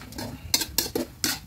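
Soup being stirred in a large cooking pot, a spoon knocking and scraping against the metal in four or five sharp clinks spaced unevenly over a soft background rustle.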